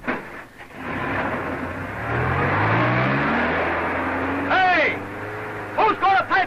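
A 1930s car accelerating hard in pursuit of escaped convicts, its engine note climbing and sweeping upward, loud and close, with brief voices breaking in near the end.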